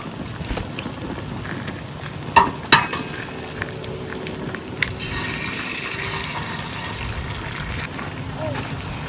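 Eggs frying in a pan at an outdoor cooking setup in a park, a steady close sizzle running throughout with a few sharp clicks and knocks of utensils, under a person talking.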